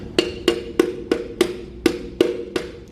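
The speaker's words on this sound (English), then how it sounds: "And then I just use a hammer, tap it in" Hammer taps seat a part into a 2009 Chevrolet Tahoe's 6.2-liter LS V8 during a rebuild, with eight sharp, evenly spaced metallic strikes about a third of a second apart, close and clear with no talking.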